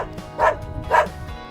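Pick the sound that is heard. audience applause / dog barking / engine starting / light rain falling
dog barking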